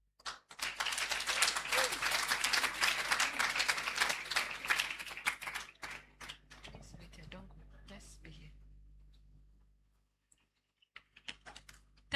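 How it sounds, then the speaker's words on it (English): Dense applause from a graduation congregation audience at Wisconsin International University College, Ghana, fills the hall for about five seconds, then thins into scattered claps and fades to near silence. "Please, let's give her another round of applause."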